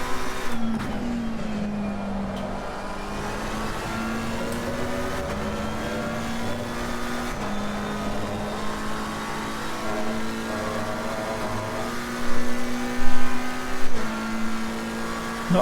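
A McLaren 720S Evo race car engine drones steadily while lapping Spa in a racing game, rising in pitch through each gear and dropping at upshifts, close and continuous, with brief louder bursts near the end.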